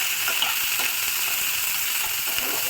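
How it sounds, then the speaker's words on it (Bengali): Onion, garlic and dried red chillies fry together in oil in a pan, making a steady, even sizzle with a hiss that carries throughout. "দিয়ে এগুলো সব একসঙ্গে একটু ফ্রাই করব"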